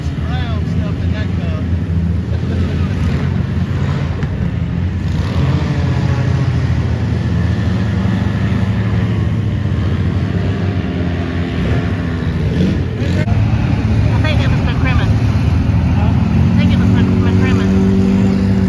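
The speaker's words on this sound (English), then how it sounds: "We got boats coming everywhere, from in front of us and back of us." Several motorboats on a river after a hurricane fill the air with a continuous loud engine roar and wind buffeting, the drone swelling as boats approach from front and behind, with voices talking over it.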